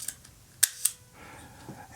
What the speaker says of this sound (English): It's nice because this one you can take out of the camera and fire the shutter.